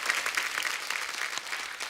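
A studio audience claps steadily in dense, continuous applause to welcome a Bollywood playback singer onto a comedy talk show stage, with no talking over it.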